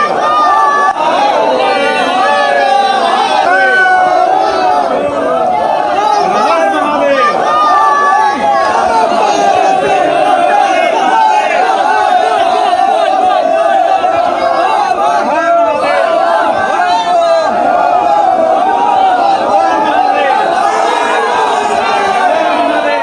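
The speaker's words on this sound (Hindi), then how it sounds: "वाराणसी में देखिए, वहां भक्तों की भारी भीड़ थी, बड़ा सैलाब था" A huge crowd of devotees packs a temple in Varanasi, producing a loud, continuous hubbub of overlapping voices and shouts that never lets up.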